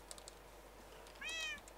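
A single short meow from a cat in Minecraft rings out near the end, faint against a quiet background with a few light clicks before it.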